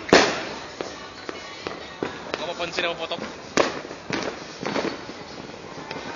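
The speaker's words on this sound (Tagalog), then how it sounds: "Ayan, fireworks display." New Year fireworks pop and bang in an irregular series, some sharp and close, others fainter, while a person speaks briefly over them.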